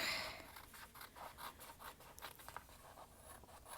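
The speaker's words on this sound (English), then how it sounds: "And you can just cut that out now." Scissors cut out a paper heart for a marbled-paper Valentine card, a quiet, close run of short rhythmic snips and rasping scrapes with no talking.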